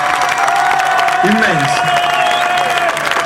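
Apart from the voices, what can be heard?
crowd applauding and cheering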